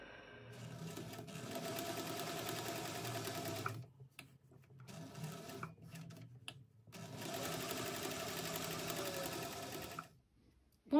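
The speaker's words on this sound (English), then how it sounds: "just top stitch with a 1/4 inch seam allowance down each long edge" Sewing machine top stitching a 1/4 inch seam down the long edges of a Kelzjon bag, running in two sustained close bursts of rapid stitching separated by brief pauses and small clicks.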